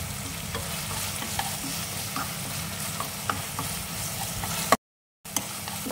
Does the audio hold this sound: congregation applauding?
no